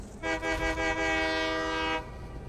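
A locomotive horn from a train engine in the video game Satisfactory blares as one loud, steady tone of about two seconds over a constant rumbling engine drone.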